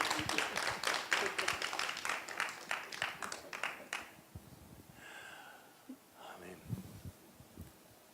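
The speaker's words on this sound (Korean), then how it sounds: "자, 박수로 좀 환영합니다." A church congregation applauds to welcome guests, with steady clapping from many people that fades after a few seconds, followed by quieter murmuring and talk.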